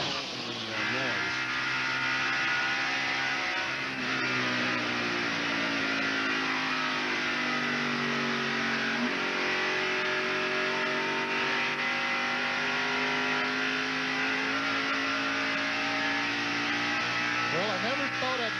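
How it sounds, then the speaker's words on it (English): A race car engine at the 1991 Heinz Southern 500, heard from the onboard camera: it drones steadily at high revs, pitch rising and falling with the throttle, loud throughout with faint talk over it. "Now listen and watch the relationship between the throttle and the noise."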